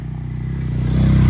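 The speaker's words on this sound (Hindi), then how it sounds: "पहले ये बाइक निकल जाए" A motorcycle passes close by on a road, its engine putting out a rapid pulsing low throb that grows steadily louder over the brief moment.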